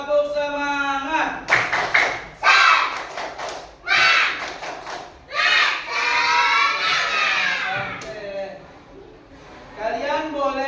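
A class of children performs the rhythmic tepuk semangat clapping chant, loud shouted voices mixing with bursts of clapping in an energetic pattern, broken by brief pauses.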